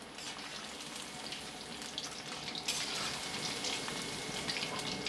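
Chicken sizzles and fries in a kadai over a medium flame, a steady broadband hiss that runs from start to end, with a brief louder burst of spatter partway through.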